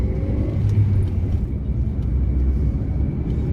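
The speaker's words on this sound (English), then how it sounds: "Time to rev a bit." A car's engine drones loudly and steadily from inside the cabin while driving in Germany, with a deep rumbling low hum and no voices.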